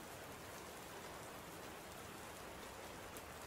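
Steady rain falling, a dense continuous hiss of drops with no pauses, moderately loud and even throughout.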